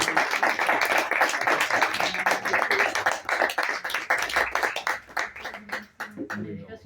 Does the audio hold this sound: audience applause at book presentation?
yes